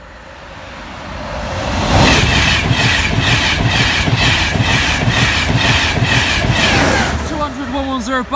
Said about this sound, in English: Okay, train.